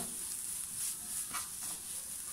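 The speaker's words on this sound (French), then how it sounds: "Ensuite, on mélange bien comme il faut." Spoon stirring a potato and tuna quiche mixture seasoned with paprika, a steady soft scraping and slushy churning at close range with no voices.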